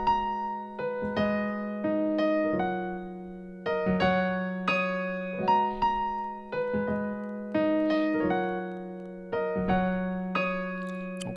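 Solo piano plays the intro of a song, slow sustained chords struck in a steady repeating pattern, close and clear, with no voices.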